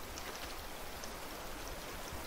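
Steady rain falls in the survival game Raft, a dense, even hiss of drops spread across the whole clip with faint scattered patters and no voices.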